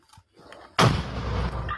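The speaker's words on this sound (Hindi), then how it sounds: "थाई सेना BM-21 से कर रही है हमले। थाईलैंड का कंबोडिया पर आर्टिलरी प्रहार।" A single heavy BM-21 rocket artillery blast from a Thai strike on Cambodia erupts suddenly and loudly after faint background rumble, its broad roar sustaining for about a second before cutting off.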